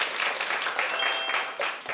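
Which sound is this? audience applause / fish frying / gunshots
audience applause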